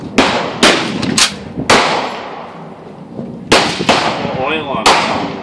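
Shots from an M1 Garand rifle ring out as a series of loud, sharp cracks, several in quick succession and then more after a pause, each followed by a ringing echo and metallic clatter.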